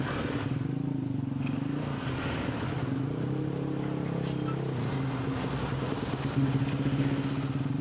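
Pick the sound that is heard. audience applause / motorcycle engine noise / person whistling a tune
motorcycle engine noise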